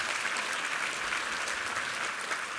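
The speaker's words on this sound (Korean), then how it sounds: "우리 하나님께 감사와 영광의 박수 올려드리겠습니다" Applause from a church congregation during a Sunday worship service, a dense, steady wash of many hands clapping without a break for a few seconds.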